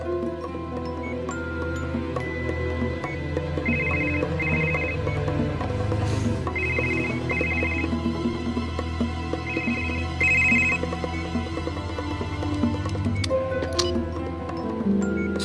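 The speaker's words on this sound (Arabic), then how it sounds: "جاك بعد شوي رح يرن موبايلك" A mobile phone rings during a scene from the drama series Valley of the Wolves, sounding in repeated short paired bursts of a bright electronic ringtone over low background music.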